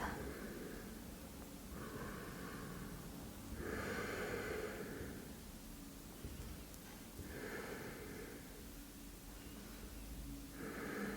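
Slow, deep breathing during a yoga spinal twist in a full-body stretch: soft airy inhales and exhales in a relaxed rhythm, about five breaths, close and fairly quiet.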